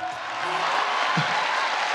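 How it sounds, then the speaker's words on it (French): Steady wash of audience applause at a stand-up comedy show in Abidjan, moderately loud and continuous, with a faint voice briefly audible underneath. "Merci, applaudissez s'il vous plaît."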